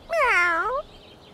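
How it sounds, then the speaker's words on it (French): A cartoon cat gives a single clear, bright meow, rising then falling in pitch, loud and close, followed by quiet. "Encore ce chat. Je me demande à qui il appartient."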